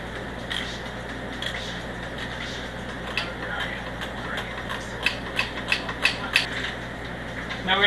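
Ratchet tightening the bolts on the upper inlet manifold of a Volvo C30, with soft clicking that grows into a few sharper, distinct ratchet clicks toward the end over steady low background noise.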